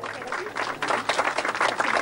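Audience applause swelling from scattered claps into full, dense clapping, loud and sustained to the end.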